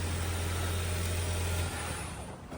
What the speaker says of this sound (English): So you hear more engine noise than anything else.